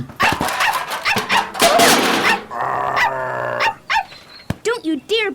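Small dog Toto barks and yips in an audio drama set in a scary forest on the way to the Emerald City, several sharp barks coming late, after stretches of dramatic voices and scoring.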